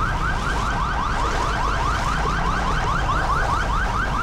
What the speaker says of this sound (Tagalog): Ito, may ambulansya.